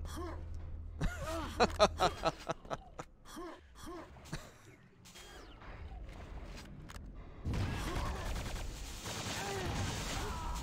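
Rocket launcher fire in a Quake 2 tournament grand final, with commentators talking and laughing over short popping shots before a dense, sustained burst of weapon fire and explosions fills the last few seconds.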